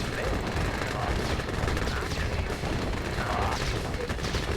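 Video game gunfire, dense sustained bursts of shots like a machine-gun fusillade running the whole stretch, loud and constant with a voice faintly under it.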